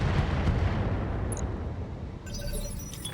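Mech weapons fire in the BattleTech game Roguetech: a loud, booming artillery-like blast rumbles continuously, followed by a sharp crackling, shattering tail near the end, with no speech.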